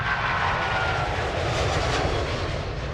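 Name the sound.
Boeing 777 passenger jet engines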